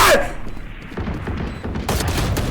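Gunfire in the Valorant video game: a loud burst of rapid shots at the start, then steady rattling fire and impacts that continue with scattered bangs to the end.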